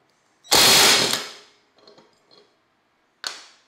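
A nut being loosened on a riding mower deck spindle, likely with an impact or ratchet tool: one loud burst of rapid mechanical rattling, then faint clicks and a short sharp rattle at the end, close up.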